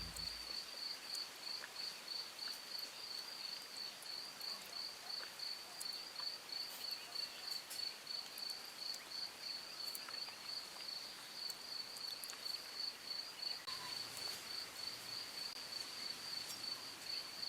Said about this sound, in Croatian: Čujete ptice, čujete cvrčke, čuje se priroda